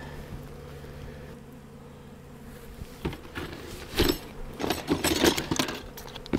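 Bees buzz around a beehive as an entrance reducer made of wood with nails is fitted, a faint steady hum joined by louder close passes and scattered knocks and rustles toward the end.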